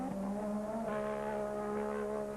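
A 1985 Formula One race car at the Kyalami circuit screams past while overtaking, its high-revving engine a steady, loud tonal whine with a slight pitch shift, heard clearly on its own.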